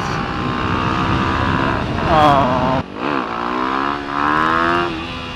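A Yamaha WR250X supermoto engine revs hard during a wheelie, its pitch climbing and surging in repeated pulls under steady wind rush, loud and close.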